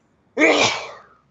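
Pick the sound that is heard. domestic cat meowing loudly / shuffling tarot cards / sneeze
sneeze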